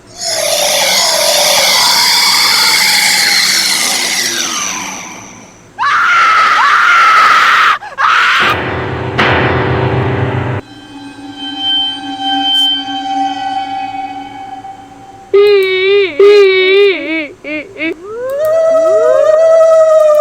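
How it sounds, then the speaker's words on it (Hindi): Loud male screams used as a horror voice-over effect, long drawn-out agonised cries up close, followed by shorter yells and eerie tonal sound effects. "उसकी चीखें गूंजने लगी"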